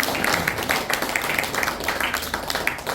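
Audience applause at a Korean civic colloquium in Gwangju on the April 19 Revolution, a steady wash of many hands clapping that holds evenly for the whole stretch, fairly close and without any talk over it.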